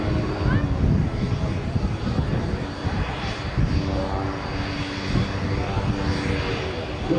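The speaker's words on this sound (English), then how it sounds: "you can fly from Zadar at the Croatian coast with Branimir Ambrekovic in his extra 300" An Extra 300 aerobatic airplane flying off the Croatian coast near Zadar gives a steady, droning propeller-engine roar throughout, moderately loud and continuous.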